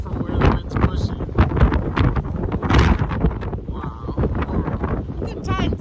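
Strong wind gusting across an exposed cliff top in the Abiquiú, New Mexico area, a steady loud rumbling buffet on the microphone with surges, while a person talks over it.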